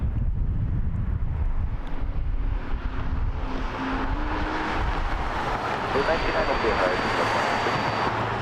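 Wind picks up at Las Vegas airport, buffeting the microphone in a loud, continuous roar with a distant aircraft drone underneath and a voice speaking intermittently.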